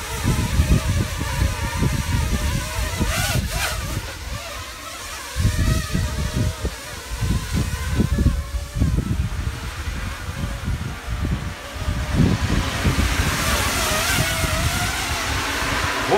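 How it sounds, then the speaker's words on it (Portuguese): Strong outdoor wind roaring across a microphone while a small Tello drone flies, a loud continuous rush with pulsing low gusts and the faint whine of propellers. "O vento é enorme."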